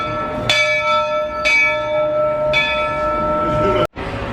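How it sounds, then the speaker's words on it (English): The bell on the Walt Disney train at Magic Kingdom clangs three times at an even pace, each strike leaving a bright sustained ring that overlaps the next, loud and near. "ring the bell on the Walt Disney train"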